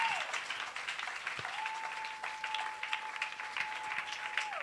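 A church congregation applauds steadily, a soft, fairly distant wash of clapping that carries on throughout, with a long faint tone held above it.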